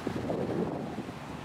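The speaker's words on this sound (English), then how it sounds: "It's kind of windy, so if y'all can't hear me" Wind buffets a microphone outdoors in Hawaii, a steady low rumbling gust lasting a second or so, with no voices.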